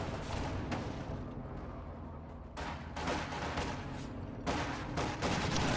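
Mortar and anti-tank gun fire in a World War II strategy video game, heavy booms and volleys of shots rolling through a constant battle din, with bursts swelling louder near the end.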